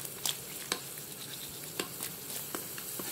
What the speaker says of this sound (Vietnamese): bây giờ xong rồi đó, thì mình sẽ bắt đầu mình rim cái tôm này